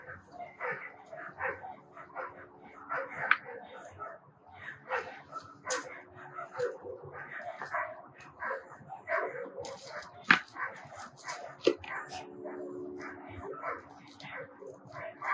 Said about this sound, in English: See all those doggies?